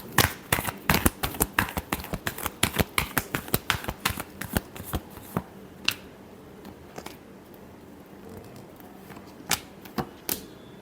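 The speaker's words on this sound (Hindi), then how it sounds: "Last shuffle." Tarot cards are shuffled by hand in quick, crisp riffling bursts, dense and snappy for several seconds, then thinning into scattered soft taps and flicks, close and clear with no talking.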